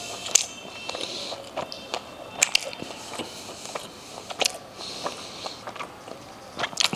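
Close chewing and biting of thick naan bread with chicken reshmi kebab, a run of irregular crunchy bites and soft mouth sounds with faint clinks in the background.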